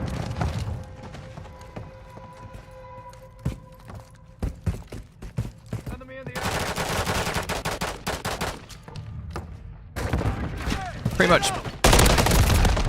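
Gunfire in the video game Call of Duty Modern Warfare 3, rapid automatic bursts and single shots cracking in clusters, loud and dense, with game voices and effects mixed in.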